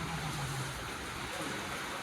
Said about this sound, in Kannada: ಮಳೆ ಬರ್ತಿರೋದೆ.